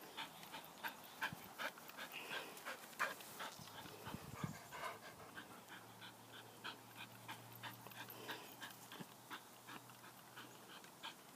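Quiet, rapid rhythmic panting from a dog close by, continuing steadily with small shuffling sounds around it.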